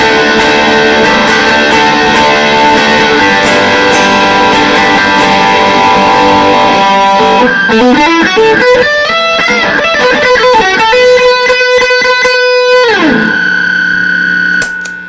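Heavily distorted electric guitar through Tone City Wild Fro overdrive, gain at noon, chugging thick chords, then a descending run and a sustained squealing note, loud and saturated with no talking.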